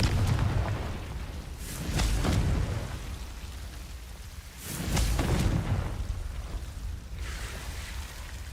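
A Confringo fire spell explodes in Hogwarts Legacy gameplay, two loud booming blasts with rumbling tails, separated by a few seconds over a steady game ambience.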